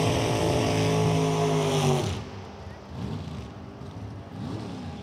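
Drag racing at Lucas Oil Raceway, including Jerry Mellis's M&M dragster and Bob Aker's 1967 Chevy II wagon: a loud, rising engine roar for two seconds, then quieter, wavering engine noise with another rising pitch near the end.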